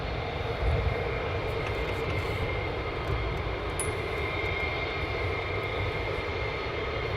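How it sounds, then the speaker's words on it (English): F-15 fighter jets taxiing at RAF Lakenheath, a steady distant jet engine whine and roar that holds fairly even throughout. "we're going to bring you some F-15s that are now also taxiing down"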